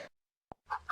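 A single short chicken cluck sounds between stretches of quiet, with a voice before and after it.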